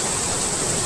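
Steady, dense rush of falling water from a village waterfall at Kuppam, a loud continuous hiss with no breaks, heard alone without voices.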